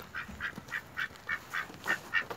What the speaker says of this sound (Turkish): Burada da ördekler var.